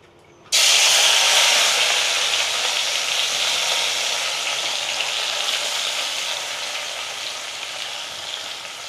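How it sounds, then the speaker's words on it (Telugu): Shahjeera and cumin seeds drop into hot ghee for restaurant-style jeera rice and burst into a loud, sudden sizzle. The crackling hiss then settles into a steady fry that slowly fades, with no voices. "సో నెయ్యి వేసేసుకున్నాము, కాగిపోయింది. నెక్స్ట్ సాజీరా అండ్ జీలకర్ర వేసేసుకున్నాం."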